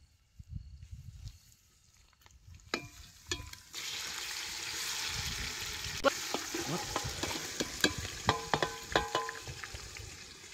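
Mutton goes into a pot of roasted onion and starts frying: a loud, steady sizzle builds after a few seconds, with close clinks and scrapes of stirring running through it.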